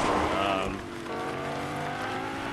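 A car drives in a video game, its engine giving a steady, moderately loud droning hum that starts a little stronger and then evens out, with a faint voice at times.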